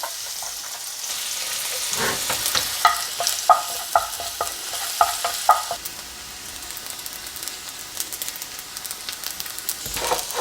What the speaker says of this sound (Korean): 마늘 양이좀 올라올 때까지 노릇노릇하게 볶아주세요